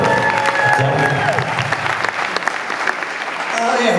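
An audience in a show venue breaks into sustained clapping that fills the whole stretch at a steady, loud level, with some cheering and voices mixed into the crowd noise.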